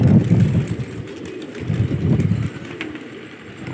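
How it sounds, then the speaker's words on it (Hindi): Pigeons coo softly in low, murmuring calls amid wind noise outdoors, the rumbling coos repeating through the clip at moderate volume with no talking. "एक से बढ़कर एक कबूतर आप देखें"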